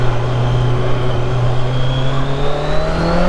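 A Kawasaki Z900 motorcycle accelerating hard in sport mode, its engine note climbing steadily and continuously as it pulls, loud and close without a break.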